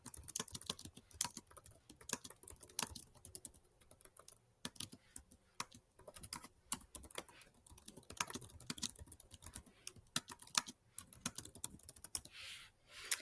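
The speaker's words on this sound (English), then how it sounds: "and I'll type out some information." Fingers tap on a computer keyboard in quick irregular bursts of clicks with brief pauses, close and crisp, with no voices.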